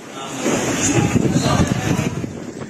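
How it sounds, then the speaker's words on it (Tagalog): Strong typhoon wind on Camotes Island, Cebu, roars and buffets the microphone in loud gusts, with a rushing, turbulent texture throughout. "hinahagupit na ng hangin ang Camotes Island sa Cebu"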